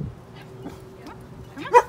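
A seizure-response service dog in training gives short, soft barks and whimpery yips on command, the loudest bark arriving near the end; the sounds are close but fairly quiet, with no voices over them.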